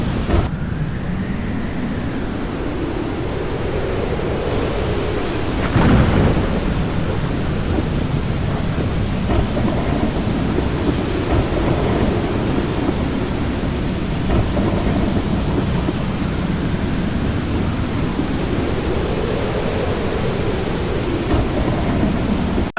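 Heavy rain pours down steadily during Typhoon Kajiki in northern Vietnam, with rolling thunder swelling and fading beneath a dense, loud wash of rainfall and a sharp crack partway through.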